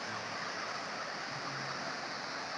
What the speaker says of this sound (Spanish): Ahí lo tienen. Un auténtico río.